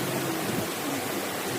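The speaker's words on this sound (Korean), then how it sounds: "물소리 들리시죠?" Mountain valley stream beside a country club, water rushing steadily in a soft, continuous broadband wash with no breaks, fairly faint and even throughout.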